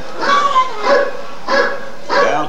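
A dog barks four times in a steady, evenly spaced rhythm, each bark clear and fairly close, with short gaps of quiet between them.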